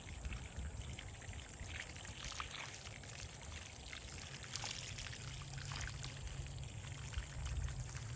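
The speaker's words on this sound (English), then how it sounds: "And just water it in." Water pours from a hose or can onto newly planted onions in a container of soil, a continuous close trickling stream that runs steadily throughout.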